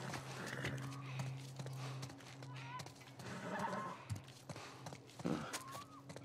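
A horse in The Last of Us Part 1 whinnies and snorts close by, with a few hoof clops and shuffling steps; quiet ambient game sound fills the gaps.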